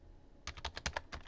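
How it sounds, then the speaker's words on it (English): Rapid computer keyboard typing begins after a short quiet pause, a quick run of crisp, fairly soft keystroke clicks in an irregular rhythm, heard close and alone. "Finish typing that in."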